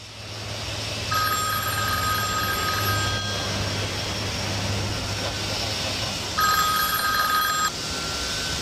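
A mobile phone rings aboard a plane with two bursts of electronic ringtone over a steady, droning engine hum, and voices are heard around them.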